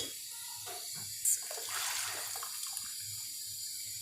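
Water is poured into a pan of frying masala for keema, a steady soft hiss and sizzle heard nearby with no talking.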